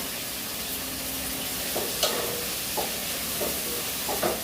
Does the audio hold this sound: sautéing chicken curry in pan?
yes